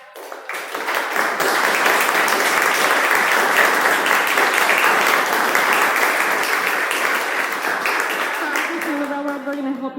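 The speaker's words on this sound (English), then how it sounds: "Give yourselves a round of applause." A live audience at an IEEE GEM virtual-reality performance claps steadily, a dense round of applause that swells quickly and holds, then thins near the end as a voice begins speaking.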